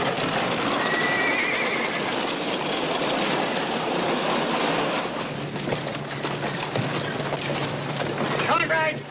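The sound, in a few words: spooked horse neighing with hooves clip-clopping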